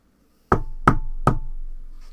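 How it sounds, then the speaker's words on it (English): Three firm, evenly spaced knocks on a door ring out close and loud, each followed by a short lingering resonance, with no voices. "So if Jacob were to knock, she would answer."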